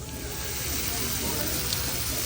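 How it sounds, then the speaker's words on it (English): Steak fajitas sizzle steadily at close range, a dense crackling hiss that holds level for the whole stretch, with restaurant background noise underneath. "Sizzling steak fajitas."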